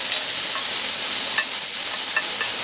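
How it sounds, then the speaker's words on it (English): Bacon sizzles steadily in a cast iron Dutch oven on a Big Green Egg, a dense, constant crackling hiss with occasional louder pops, close and alone without any talk. "we're going to let this go for a little while till that bacon renders down real good"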